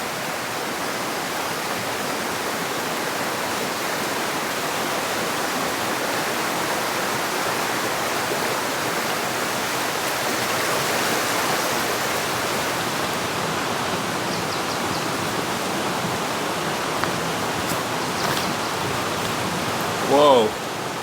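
A river runs near a cabin during a winter rainstorm, a steady, dense rushing wash of water that holds constant throughout, with heavy rain likely blended in.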